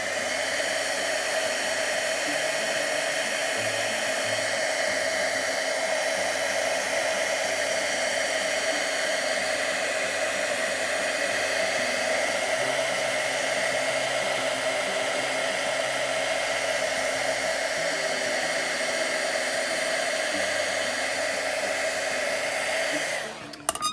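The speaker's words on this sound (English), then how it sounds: "you're keeping your heat gun about an inch, 2 inches away from, away from your paper" Steady, loud blowing whoosh of a heat gun melting embossing powder on paper for a Christmas card, unbroken and close for the whole stretch, then cutting off abruptly at the very end.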